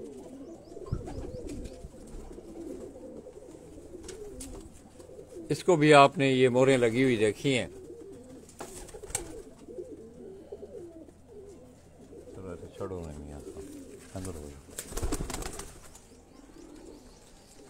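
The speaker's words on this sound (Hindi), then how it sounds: "ये वो सारे कबूतर हैं दोस्तों, ये वो छः के छः कबूतर जिनका हमने आपको शौक करवाया है" Rooftop pigeons coo in a short burst of throaty, rolling calls, close and fairly loud, with someone talking before and after and a few faint chirps and flutters around them.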